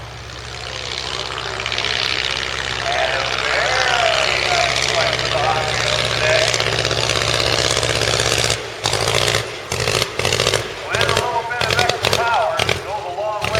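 Pioneer-era 1910 airplane engine in flight at Rhinebeck, a steady loud droning buzz held for several seconds, then breaking into choppy, fluctuating bursts as the aircraft passes and banks.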